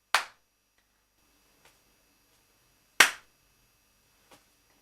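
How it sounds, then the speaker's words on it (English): Two sharp hand claps, about three seconds apart, each followed by a faint echoing tap, in a quiet room with no talking. "It's a technique where you clap or click in between shots"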